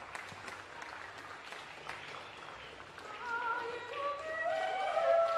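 An audience in Chengdu applauds steadily at a recital introducing soprano Veronica Antonelli, with tonal music swelling in beneath the clapping after a few seconds.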